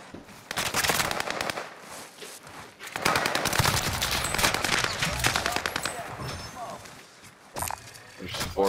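Heavy automatic gunfire in Call of Duty: Warzone rattles in long, loud bursts with brief pauses between them, close and sharp, while players speak over the shooting.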